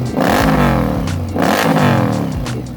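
An Indian Scout Bobber motorcycle engine revs hard twice up close, each loud rising roar falling back with a rumbling burble, and nobody speaks.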